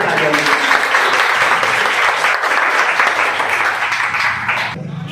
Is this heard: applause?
yes